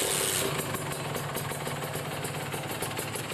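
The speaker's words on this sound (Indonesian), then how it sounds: "Oke, nyalain dulu motornya." A carbureted Kawasaki Ninja RR two-stroke engine with a badly stuttering carburetor runs nearby with a rapid, rattly, pulsing putter. It holds steady after a brief louder opening, with no voices.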